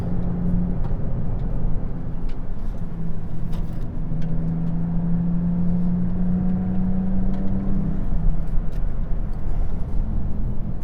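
A Maserati MC20 sports car driving on the road, heard from inside as a steady loud engine drone with a rising and falling hum and continuous road noise, no speech.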